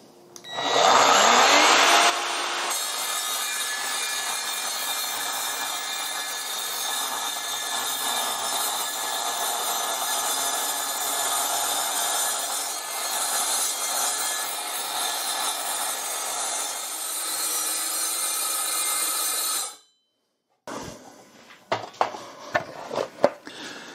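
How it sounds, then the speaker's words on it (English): A cold cut saw spins up and cuts through 4 mm steel plate during repairs to a broken roller stool. It gives a loud, sustained grinding whine for nearly twenty seconds, then stops abruptly, followed by some clattering as the work is handled. "I'm going to use this cold cut saw, which I haven't really had much use out of yet"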